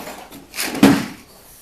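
A workbench drawer glides along its slides and shuts with a soft bump, a single smooth sliding rush rising to a brief knock, close and fairly quiet.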